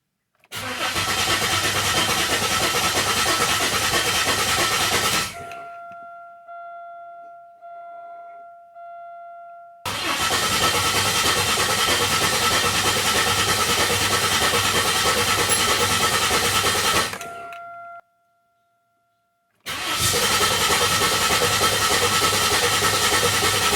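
A 2004 Buick Regal with a turbocharged 3800 engine after a rebuild cranks loudly in three long bursts, each stopping abruptly. A faint steady tone fills the gaps between them, with no clear catch and no voices.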